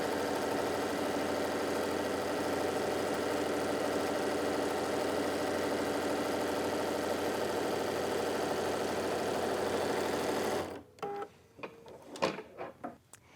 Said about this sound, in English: I continue to just sew as many tucks as I would like to on my project